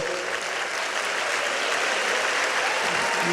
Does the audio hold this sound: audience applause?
yes